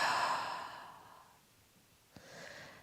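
A deep, audible exhale during a relaxation breathing exercise, one long soft sighing breath out that fades, then a short quieter breath, with no talking.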